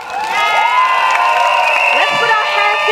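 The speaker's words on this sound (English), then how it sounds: "Let's put our hands together today and give a warm round of applause to welcome the PAP Sengkang team" A large crowd at a PAP Sengkang election rally cheers and applauds loudly to welcome the team on stage, with shouts and whoops rising over dense, continuous clapping close by.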